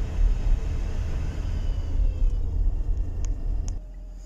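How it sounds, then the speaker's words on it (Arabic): Inside a car, the air conditioner fan runs with something rubbing against it or a faulty blower motor, making a steady close whirring, scraping rumble with faint squeaky overtones that cuts off near the end. "الصوت هذا صوت مروحة المكيف."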